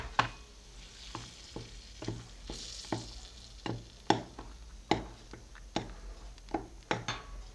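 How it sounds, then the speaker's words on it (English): Flour being mixed by hand with butter and cooking oil for half cakes (mandazi), producing a series of soft, fairly regular scraping and patting knocks against the bowl, close up, with no talk. "Mix with your fingers to make sure it has gone everywhere into the flour."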